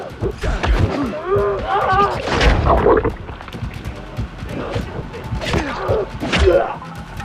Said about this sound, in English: there's a cannon on the roof to the west